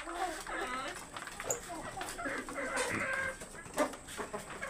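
Black Australorp chickens on a farm in Bangladesh give scattered clucks and calls, with other farm birds and some indistinct human voices mixed in the background.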